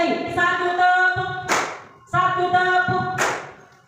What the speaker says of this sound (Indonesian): Satu tepuk, dua tepuk, tiga tepuk.